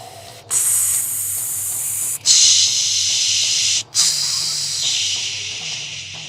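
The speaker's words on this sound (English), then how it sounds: "Draining the air from the lungs." Forceful breaths push air out of the lungs as three long, loud, airy hisses, separated by short gaps, heard close with nothing else over them.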